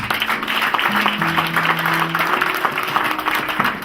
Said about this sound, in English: Clap hands for Jesus.